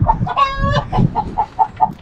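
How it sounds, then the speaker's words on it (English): Chickens cluck close by in a run of short, punchy calls, with one drawn-out squawk near the start. "Anyway, Mike, we can't stand around clipping chickens all day."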